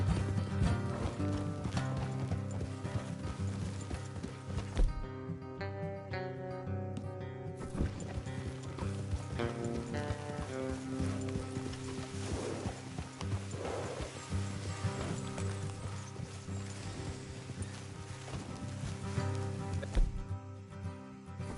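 Horses' hooves clip-clopping in the Red Dead Redemption 2 video game, a steady rhythm running throughout beneath a dense layer of music and game ambience, with occasional faint mechanical rattles.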